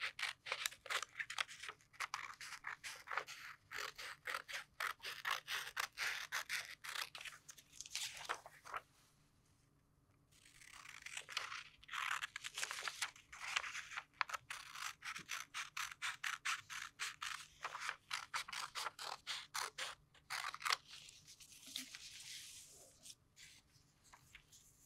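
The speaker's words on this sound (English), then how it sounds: "So for our first step, we're going to cut the protractor template." Scissors snip through a paper protractor template. The close, quiet crunching cuts come in quick repeated bursts, with a short pause partway through.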